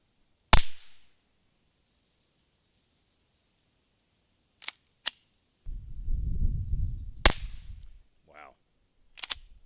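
Suppressed Smith & Wesson M&P 2.0 pistol firing 158 grain Super Vel rounds: several sharp, dry cracks spaced across the clip, loud and close, with a brief rumble of handling noise between shots and no talk.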